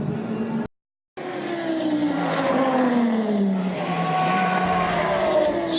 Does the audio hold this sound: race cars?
yes